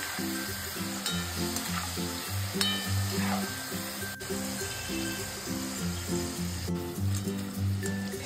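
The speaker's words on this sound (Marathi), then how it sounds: "आलटून पलटून आपल्याला सतत हलवत ह्यांना फ्राय करत राहायचंय" Spinach kurkure pieces deep-fry in hot oil over a low gas flame, a steady close sizzle broken by repeated clinks and scrapes as the pieces are turned and stirred.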